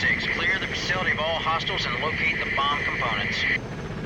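Helicopter in the combat video game Delta Force: Land Warrior, a steady rotor and engine drone running loud and close for about three and a half seconds before dropping away, with someone talking over it throughout.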